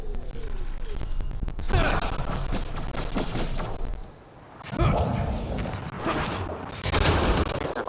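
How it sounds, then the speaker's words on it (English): Gunfire in the Mass Effect Andromeda video game aimed at a Kett device: rapid bursts of shots and crashing impacts, loud and close, with a short lull midway before the firing resumes, mixed with game voices. "Shooting the device will destroy it."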